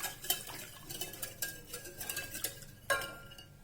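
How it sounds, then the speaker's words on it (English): A pan of milk being stirred for pasta sauce over a low to medium flame, with intermittent soft scrapes and light clinks of a spoon against the pan, quiet and close. "Just keep mixing it in intervals to avoid any lumps."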